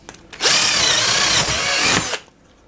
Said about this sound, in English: I'm going to drill a hole in this. This is just a piece of what, 1/2 inch plywood